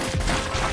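A fireworks item goes off in the video game Risk of Rain as a brief, loud burst of crackling pops under busy game noise.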